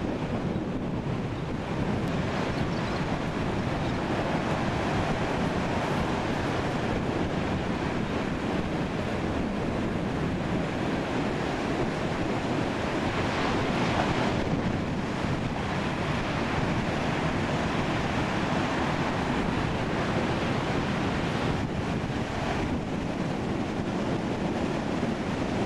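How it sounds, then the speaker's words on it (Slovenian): Rough surf crashing against the Australian coast, a steady, loud roar of breaking waves with heavy wind buffeting the microphone and no voices. "od teh valov, ki se razbijajo ob obali"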